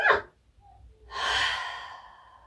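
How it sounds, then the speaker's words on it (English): A child-friendly yoga breathing exercise: a sharp breath at the start, then a long, audible exhale like a sigh that swells and fades over about a second, close and clear with no talking. "So breathing in and out."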